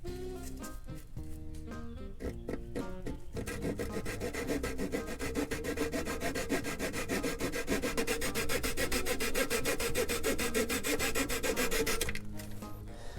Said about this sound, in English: I'm using just a razor saw.